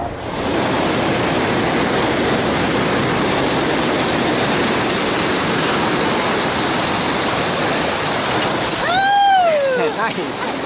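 The Colorado River rushes loud and constant around a raft in the Grand Canyon, a broad steady roar of churning water, with a voice breaking in briefly near the end.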